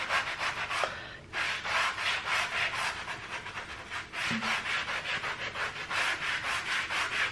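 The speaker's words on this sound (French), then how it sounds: "Je passe un petit coup de brosse à joint en même temps." A sponge and a grout brush scrub a wet surface with cleaning product in quick, rhythmic back-and-forth strokes. The rasping is close and steady, with a short pause near the start and no talking.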